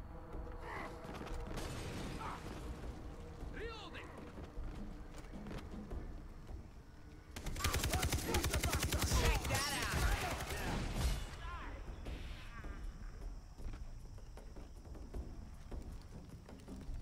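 Dense gunfire from a Far Cry 3 co-op firefight bursts out loud around the middle, a rapid crackling volley over a steady game background, with earlier scattered shots; voices talk faintly under it.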